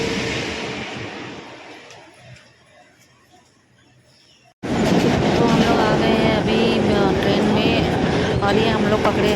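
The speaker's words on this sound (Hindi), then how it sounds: "और ये हम लोग पकड़े हैं फास्ट ट्रेन।" A fast local train in Mumbai rumbles and clatters, quiet at first and then loud and close from about halfway as wheels and carriages roar, with voices talking over it.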